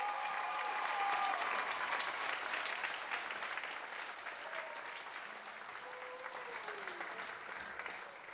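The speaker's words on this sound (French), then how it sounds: "une grosse main d'applaudissements à tous les participants" A crowd applauding all the participants at the close of a contest, sustained hand clapping at moderate distance that gradually thins and fades, with a faint voice briefly audible underneath.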